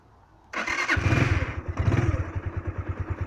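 A Lexmoto ZSB125 motorcycle engine starts up abruptly, revs briefly, then settles into a steady, rhythmic idle with evenly pulsing thumps.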